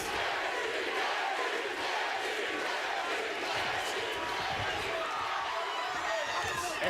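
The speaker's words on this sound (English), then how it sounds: "they're cheering for Gaethje, as you would imagine" Arena crowd at a WSOF mixed martial arts bout between Gaethje and Palomino, a sustained roar of cheering and shouting filling the venue, with commentary voices underneath.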